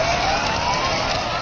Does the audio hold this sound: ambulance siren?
yes